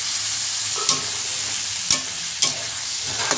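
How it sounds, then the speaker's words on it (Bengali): Boiled potatoes and ghugni sizzle steadily in a hot pan, a constant hiss broken by a few soft clicks and scrapes of a spoon. "তো এবারে সেদ্ধ আলু আর ঘুগনিটা ঢেলে দিলাম।"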